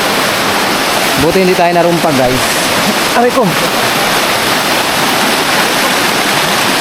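Strong river water rushes loudly and continuously while people talk over it, one voice crying out in pain.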